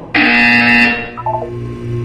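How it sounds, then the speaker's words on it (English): A loud harsh electronic buzzer sounds in the video game Portal 2, a single sustained blaring tone lasting about a second before cutting off into lingering hum and faint tones. "When you hear the buzzer, look down at the floor."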